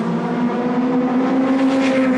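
A race car at the 1998 Le Mans race roars close by with a loud, sustained engine note that rises slightly in pitch as it passes.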